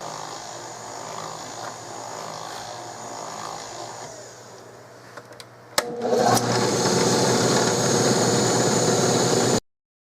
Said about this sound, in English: Now I'm ready to mill this shape out.